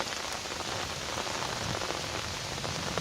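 Steady rain falls on a rural garden plot in Prachinburi, Thailand, a dense, even hiss of drops on surfaces that holds constant throughout with no voices.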